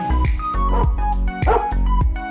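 A dog barking close and loud, several sharp woofs in a steady rhythm with short gaps between them, mixed with a whimpering yip.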